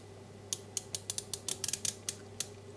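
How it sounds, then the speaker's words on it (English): Crisp metallic clicks from the unidirectional 160-click bezel of a Ball RoadMaster 200m automatic dive watch being turned, about a dozen quiet ratcheting ticks at an uneven pace over a low steady hum. "It's a unidirectional bezel with 160 clicks"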